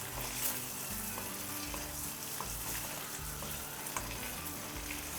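Lightly scored boiled eggs fry in a pan for egg pulusu, giving a continuous close sizzling hiss with soft scraping and stirring taps, no voices.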